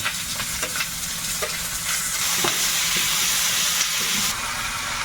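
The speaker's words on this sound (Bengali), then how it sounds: "মশলাটা ভাজা ভাজা হয়েছে এবারে মাংস দেবো" Chicken pieces hitting ginger-garlic spice masala in a hot pan, a steady loud sizzle and hiss with occasional scraping stirs, no voices over it.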